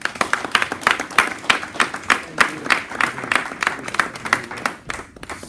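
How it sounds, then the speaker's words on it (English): A church congregation at a Sunday service claps in a steady, rhythmic beat, with loud, evenly spaced claps running for several seconds before stopping abruptly. "Give God a clap"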